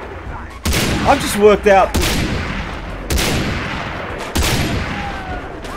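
Gunshots in the video game Far Cry 3: several loud, sharp blasts, each followed by a long decaying tail, spaced a second or so apart, with someone briefly talking over them.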